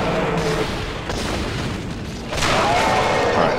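Gunshots in the sci-fi horror game Dead Space land as heavy booming blasts, a few spaced bangs over a loud, rumbling background that swells toward the end.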